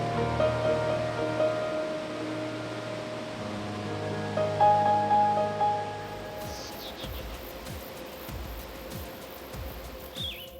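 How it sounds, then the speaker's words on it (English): Roaring waterfall at High Falls Gorge in the Adirondacks, a steady broad rush of water that fills the scene for the whole stretch, with faint bird chirps and a few clicks rising over it near the end. "the rush of the water, the sounding roar of the water"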